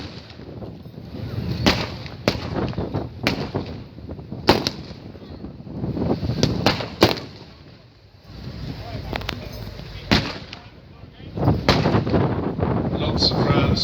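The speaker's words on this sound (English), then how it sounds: "Lots of rounds cracking across the battlefield." Blank rounds and gunfire crack repeatedly across a tank battle reenactment at Tankfest 2022, sharp irregular shots and bursts ringing out over a steady background rumble.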